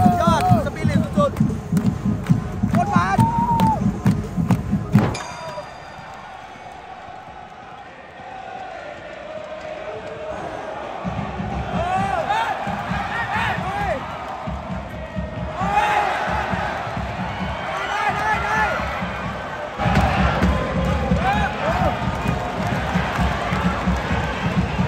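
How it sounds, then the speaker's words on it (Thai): A stadium crowd at a Thai football match cheers and chants in loud rhythmic surges, drops to a murmur for several seconds, then swells again with drumming-like pulses and a voice talking over it. "กองเชียร์เข้ามาแบบเต็มสนามเลยนะ"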